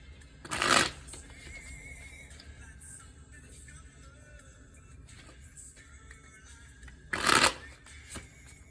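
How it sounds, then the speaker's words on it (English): Two brisk bursts of cards being riffle-shuffled, several seconds apart, with quiet room noise in between. "I'm going to shuffle the first deck a couple more times and split the deck"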